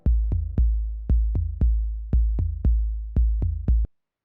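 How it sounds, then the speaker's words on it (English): An 808 kick drum and a bass synth play together in a dub techno groove, giving a steady pattern of deep, punchy booms in uneven clusters with short decays. The hits are loud and close, with no voices. "So these two sounds together, kick drum and bass, sound like this."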